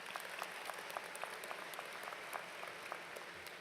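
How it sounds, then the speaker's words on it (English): Audience clapping at a graduation ceremony, dense steady applause from a crowd, even and continuous throughout, somewhat distant and moderately quiet. "give her a round of applause"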